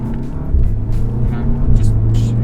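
VW Golf R in sport mode with manual shifting, engine pulling hard under acceleration with a steady loud rumble and rising revs heard from inside the car, a driver talking over it.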